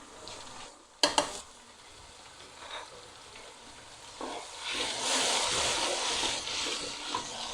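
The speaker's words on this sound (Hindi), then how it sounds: "अदरक लहसुन की भुनाई होगी।" Onions, ginger-garlic paste and green chilies fry in a pan, starting with a sharp clatter as they drop in, then a soft hiss that swells into a steady, close sizzle with occasional stirring.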